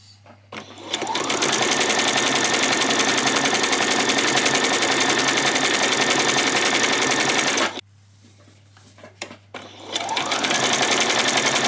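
A sewing machine stitches a zigzag seam on a peasant top in a loud, rapid, steady mechanical rattle. It pauses briefly near the end, then runs again.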